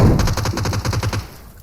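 A rapid burst of automatic gunfire from a battle royale video game, about a dozen evenly spaced loud shots in quick succession, then a fade to quiet.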